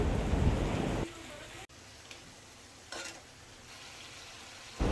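Potatoes go into a pan of cumin, ground coriander and salt, setting off a loud, close sizzle for about a second that then settles into a quieter, steady frying hiss with occasional small crackles.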